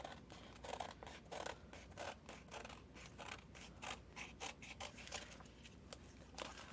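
Scissors cutting around a craft template for a glitter pencil tumbler, a quiet, steady run of close snipping and rustling strokes against a faint background hiss.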